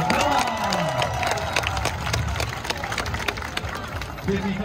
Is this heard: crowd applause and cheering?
yes